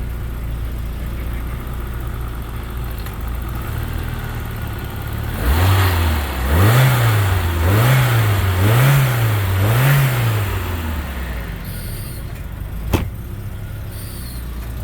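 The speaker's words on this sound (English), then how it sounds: "Let me see if I can rev it." A 1990 Citroen XM engine revs up four or five times in quick, even pulses, each rise and fall clear and close, then settles back to a steady idle with a brief click near the end.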